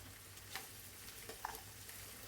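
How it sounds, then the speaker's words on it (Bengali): Turmeric and chili powder frying in oil for a spicy tengra fish curry, a quiet even sizzle with a couple of soft ladle taps, no talking. "আমি মশলাটা ভালো করে তেলে ভাজা ভাজা করে নিলাম যেন কাঁচা গন্ধটা চলে যায়"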